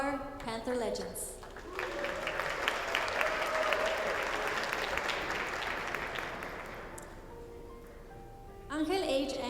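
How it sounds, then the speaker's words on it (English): A crowd at a school district's Panther legends honors ceremony claps in a sustained round of applause that rises and then tapers off, with a voice speaking before and after the clapping. "Round of applause for all our Panther legends."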